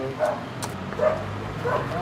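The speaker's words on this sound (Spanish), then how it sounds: "Tienen un perro, Zappa." A household dog gives three short, light barks or yips in a room, spaced evenly, mixed in with people greeting and talking nearby.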